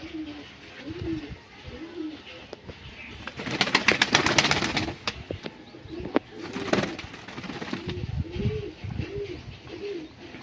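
Pigeons coo repeatedly in soft, rolling phrases close by, with a burst of wing flapping and rustling in the middle.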